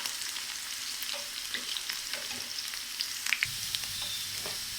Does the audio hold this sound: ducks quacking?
no